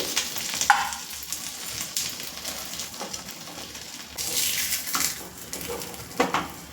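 A bun dosa frying in a pan gives off a soft, steady sizzle close by, with occasional bursts of hissing and a few faint pan clinks, and no voices.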